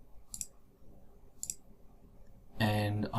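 Two crisp, faint computer mouse clicks about a second apart on a button in a web app, followed by a speaking voice.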